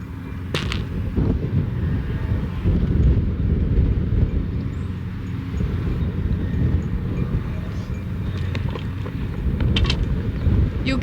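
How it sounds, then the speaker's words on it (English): Strong wind of about 35 mph sweeps across a golf course, roaring steadily into the microphone with rising and falling gusts throughout; nobody talks. "I did not realize that the wind was this bad."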